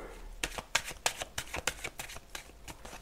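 Tarot cards are handled and drawn one after another in crisp, quick snaps and slides, a close, regular series of card flicks with no talk.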